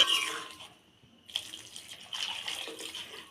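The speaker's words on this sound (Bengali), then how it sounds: "এবার জল দিয়ে দেবো" Water is poured into a pot of fish curry with potatoes, a short splashing stream that stops briefly, then resumes as a steady, fairly quiet pour.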